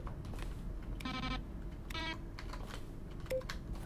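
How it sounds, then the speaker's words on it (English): Short button sounds, each a keyboard click blended with a bright synthesized beep, repeating at about one-second intervals against quiet background clicks. "Button sounds. Each sound is a mix of a keyboard stroke and a synthesized tone."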